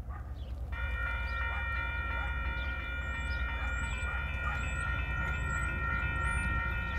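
A westbound Union Pacific priority train rolls past near Montour, Iowa, its heavy low rumble steady throughout, with a sustained multi-tone horn chord coming in early and holding on, and faint birdsong above.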